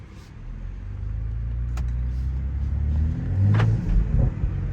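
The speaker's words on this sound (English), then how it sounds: "My car popping." A 2020 BMW M340i xDrive revs with a deep rising drone, close and loud, with a few sharp exhaust pops and bangs breaking through as the engine climbs and falls.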